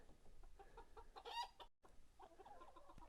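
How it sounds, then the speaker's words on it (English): Chickens on a farm clucking close by, a quick series of short, clipped calls with one louder squawk in the middle, fairly quiet overall, and no one talking over them. "I'm looking at a bunch of adorable chickens right now. Here, I know you can't see them, but you can hear them."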